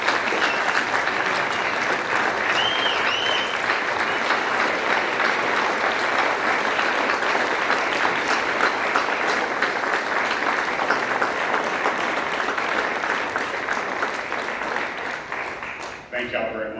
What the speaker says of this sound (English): let's give these heroes one more round of applause for their service